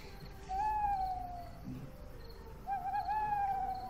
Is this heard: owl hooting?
yes